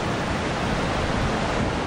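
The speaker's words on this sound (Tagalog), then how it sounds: "Malalaki rin ang alon sa dagat sa baybayin ng Sangay sa Camarines Sur." Large storm-driven sea waves on the coast of Sangay, Camarines Sur, during a typhoon in the Bicol Region, heard as a steady, loud, broadband roar of surf with no distinct breaks and no voices.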